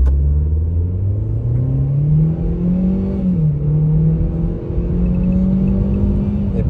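A Chevrolet Gentra accelerates hard from a standstill toward 100 km/h: a loud, steady engine drone rises in pitch through the gears, with a short dip at a gear change, heard from inside the car.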